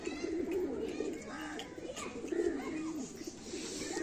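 Giribaz and Madras pigeons coo in soft, repeated throaty rolls, close and steady, with faint background voices underneath.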